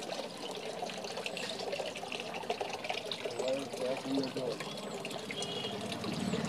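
Water runs steadily over a dog during its bath, a moderate, continuous splashing and trickling close by with slight surges.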